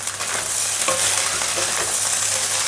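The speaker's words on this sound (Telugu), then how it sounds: "చివరగా కొత్తిమీర వేసుకొని ఒకసారి కలుపుకోవాలి." Egg fried rice being stirred in a hot pan after sauces and coriander go in: loud continuous sizzling with scraping and tossing strokes of a spatula, close up, no speech.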